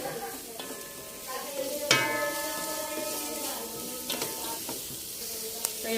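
Garlic and onion sautéing in a pan: continuous close sizzling with occasional stirring scrapes and clinks, and a faint voice in the background.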